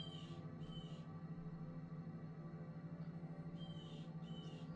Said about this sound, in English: Loud ass blue jay just yelling outside.